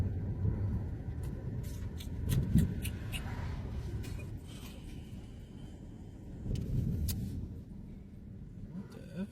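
A truck's engine runs with a low, rough rumble throughout, swelling louder twice, while people talk over it.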